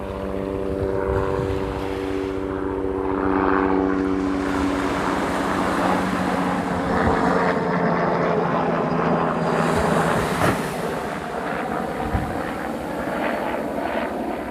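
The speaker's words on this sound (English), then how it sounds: "Chopper one, chopper one." A helicopter flies over a surf beach in Australia, its engine and rotor droning loudly and steadily for the whole stretch, rising and easing slightly as it passes overhead, with no talk.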